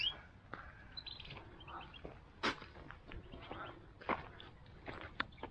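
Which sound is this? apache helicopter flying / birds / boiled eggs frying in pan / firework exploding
birds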